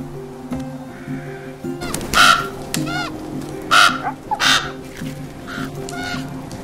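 Several crows caw harshly in a Game of Thrones scene, with a few loud, rough calls rising over a sustained low musical drone and rumble.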